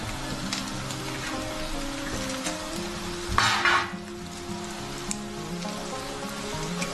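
Whole biryani spices, bay leaf among them, sizzle in hot oil in a home kitchen pan, a faint continuous crackle with a brief louder hiss midway.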